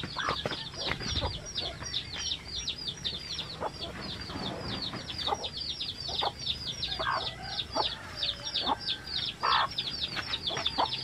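Chickens on a rural farm cluck and chatter over one another in a steady, busy stream of short calls, at moderate distance and fairly quiet, with faint outdoor background noise and no talking.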